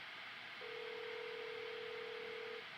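A phone call placed on speakerphone rings out from an older handset as one steady, sustained tone that starts shortly in and holds for about two seconds over a quiet background hiss.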